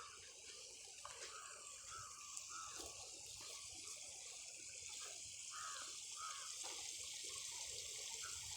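Irrigation water flows onto a freshly planted onion plot on a village farm, a faint, steady trickling rush with crows cawing now and then in the background.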